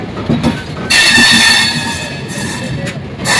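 A long-distance Howrah to Mumbai CSMT express pulls out of Bilaspur Junction, a large station with 18 tracks and 8 platforms; loud, steady rail rumble and wheel clatter with a bright metallic squeal rising partway through, no talk.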